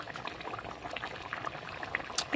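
Water poured into a pan of egg curry simmering on the stove, giving a soft bubbling and liquid splashing with small crackles, steady and close, without any talk.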